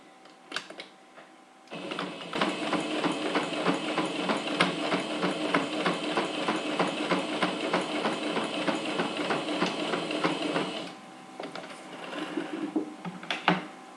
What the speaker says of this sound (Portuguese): Vou virar aqui para minha máquina e já vou costurar aqui as 2 costurinhas, bem na beiradinha.